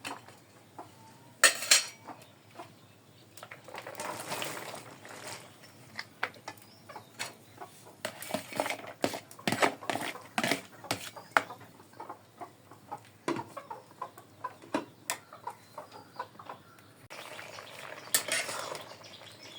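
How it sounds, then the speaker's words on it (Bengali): Vegetables going into a cooking pot of boiled lentils in a village kitchen: scattered close clinks, scrapes and knocks of utensils against the pot, irregular and moderately loud, with no talking. "ডাল সিদ্ধ করা হয়ে গেছে, এখন আমি সবজিগুলা দিয়ে দিই"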